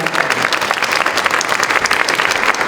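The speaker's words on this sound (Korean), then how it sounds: "이해창 위원장님께 큰 박수 부탁드리겠습니다" Dense, steady crowd applause fills a Korean general-election campaign launch rally, a loud wash of many hands clapping at once without a break for the whole stretch.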